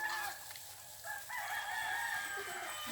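A rooster crows among chickens on a farm in the countryside, with a few clucks and crows standing out against a quiet outdoor background.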